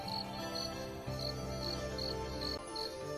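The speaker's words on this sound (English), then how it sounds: "In that hole is a brown cricket, humming and painting." A brown cricket chirps in a steady repeating pattern of short bright pulses, rising over a dense bed of sustained background music that keeps going throughout.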